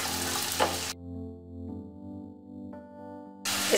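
Green chilli, peas and carrot sautéing in a pan for vegetable poha: a bright sizzle at the start and end, with a quiet musical stretch in between and no talk.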